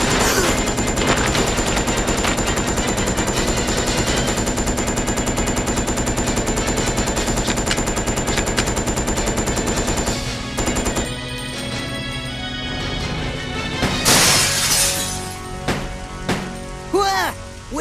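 Sustained automatic gunfire in Resident Evil Code Veronica X, a dense continuous rattle that drops away before brief clattering hits and game sounds at the end.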